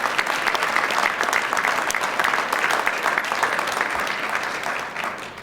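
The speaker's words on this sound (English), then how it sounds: "Can we give them all a round of applause?" Lively applause from a breakfast audience honoring JROTC cadets, crisp individual claps audible in a dense, sustained round that eases slightly toward the end.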